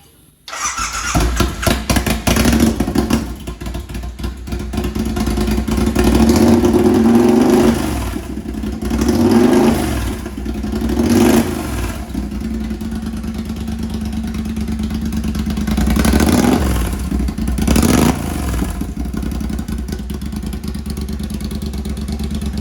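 A motorcycle with a freshly finished, fully welded exhaust, running slightly rich, starts up and idles, then is blipped through several sharp revs that rise and fall, loud and close with no talking.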